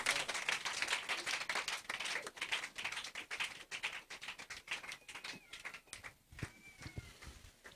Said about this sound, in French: Donnez-lui une bonne main d'acclamation